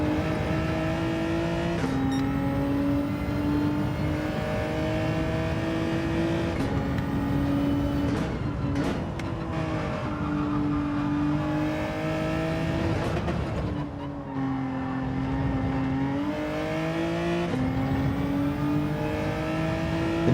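Racing cars, among them a Mitsubishi Evo, drone through a Gran Turismo 7 lobby race, a continuous loud engine tone rising and dropping in pitch with gear shifts.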